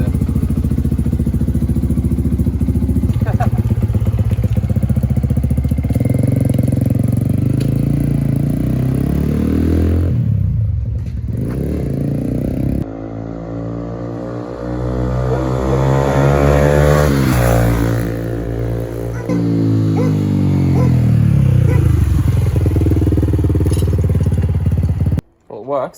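A motorcycle with a new 12-tooth sprocket, an adjusted clutch and a reworked ECU revs and accelerates on its first ride, the engine pitch repeatedly climbing toward the red line, with loud wind and road rumble throughout.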